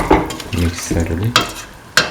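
A spoon stirs a mint tomato rice mixture with water in a pan, giving scraping strokes and soft bubbling sizzle with a few sharper clinks, heard up close with no talking.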